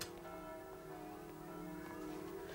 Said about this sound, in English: I'm sick of the sound of bells. It must be for Vespers.